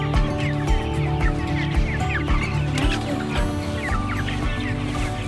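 Meat chickens clucking steadily inside a chicken tractor on open pasture, a dense chorus of overlapping clucks and murmurs from many birds close by, with no talk over it.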